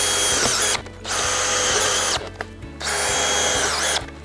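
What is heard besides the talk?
cordless drill driving screws into anchor post base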